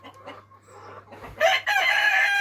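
A rooster crows loudly and close, one long drawn-out call rising after some soft clucking and scratching beforehand.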